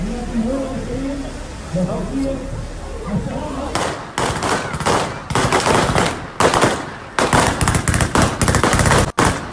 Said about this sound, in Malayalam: പടക്കത്തിലെ ശബ്ദം കേട്ടപ്പോൾ